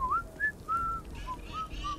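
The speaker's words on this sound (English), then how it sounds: "The whistling startled me." Whistling in the video game Starfield: a series of short, rising and sliding tonal whistles repeat in a loose rhythm, clear and moderately loud over a quiet ambient background, with no talking.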